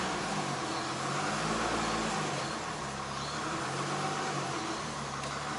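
Nissan R32 Skyline engine idling, a steady low, even running hum with a smooth continuous tone and no talking.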